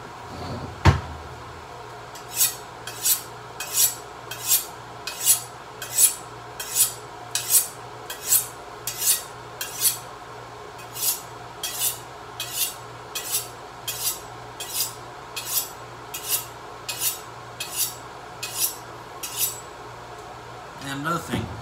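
A kitchen knife, a Cuisinart, is honed on a honing steel in a home kitchen, producing about twenty crisp, evenly spaced metallic swipes in a steady rhythm, close and clear over a faint low hum.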